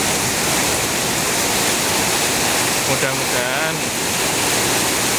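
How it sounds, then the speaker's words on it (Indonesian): Strong wind and heavy rain in Surabaya make a loud, dense, continuous rushing wash, with a person speaking briefly underneath partway through. "Masih aja kencang banget anginnya."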